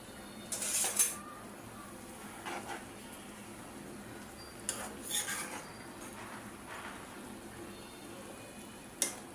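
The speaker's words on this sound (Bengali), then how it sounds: "এখন ঢাকনা দিয়ে ডেকে রাখবো" A metal lid set down on a cooking pot holding a shrimp and eggplant curry, several sharp clinks and clanks spaced apart over a quiet kitchen background.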